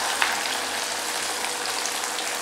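Cutlets fry in hot oil with a loud, steady, close sizzle that holds unbroken throughout, marked by one small pop near the start and no voices.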